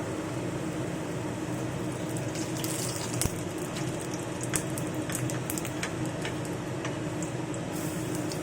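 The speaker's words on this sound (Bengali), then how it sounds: "আমি বড়াগুলোকে উল্টোপাল্টা করে ভেজে নেব" Lentil fritters made with masoor dal fry in oil, a steady close hiss with scattered sharp crackles and pops throughout.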